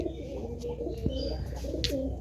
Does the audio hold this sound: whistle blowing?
no